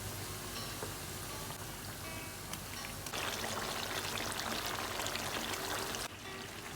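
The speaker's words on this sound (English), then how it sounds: "add the potatoes as well." Potatoes tipped into a pan of frying onions for a Spanish tortilla de patata, giving a steady close sizzle and frying hiss that swells louder partway through, then drops at the end, with no talk.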